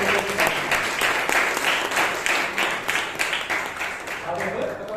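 Audience applause fills a Toastmasters club meeting in Bangalore, dense steady clapping from many hands at close range, sustained throughout and tapering slightly at the end.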